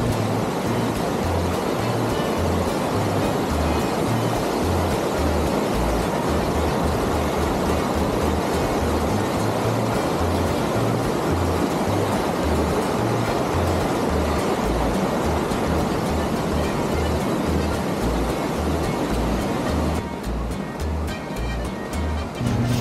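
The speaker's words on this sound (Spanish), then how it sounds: "De lado y lado tenemos diversas corrientes de agua, las cuales se disfruta al poder escuchar." Steady, full rush of waterfall streams with a constant broadband wash, continuous with no pauses or voices.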